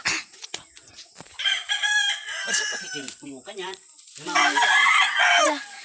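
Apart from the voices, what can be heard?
rooster crowing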